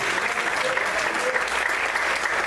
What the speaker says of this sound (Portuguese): Você pode aplaudir e glorificar a Deus por isso?